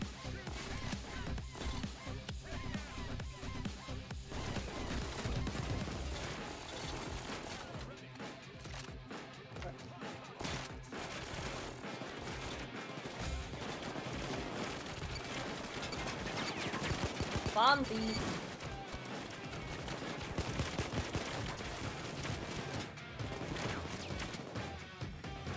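Gunfire in the shooter game Payday 2 crackles in dense bursts of rapid automatic shots and crashes for the whole stretch, moderately loud, with players talking over parts of it.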